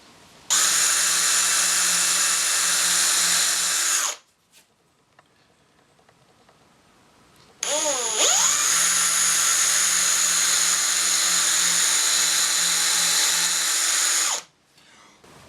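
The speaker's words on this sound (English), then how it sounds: "We'll get some pilot holes started." A power drill bores pilot holes into a wooden coffee table in two long, steady bursts, each roughly four to seven seconds, with a quiet pause between them; the motor whine is loud and close.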